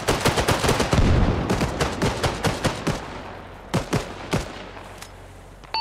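Rapid, continuous bursts of mortar and gunfire in the Arma Reforger video game, loud and dense at first, then thinning into separate sharp booms and cracks spaced about a second apart.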